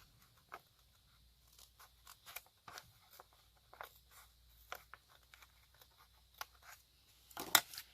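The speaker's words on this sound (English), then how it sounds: "I can cut off that rough edge" Scissors snipping the rough edge off a junk journal page, a scattering of faint, close crisp cuts and paper rustles with one louder snip near the end, otherwise quiet.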